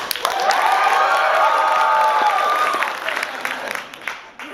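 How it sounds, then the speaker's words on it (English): A live show audience breaks into loud applause mixed with cheering and shouts, sustained and dense for a few seconds before thinning out into scattered clapping. "I just want you to go crazy with applause when they come in"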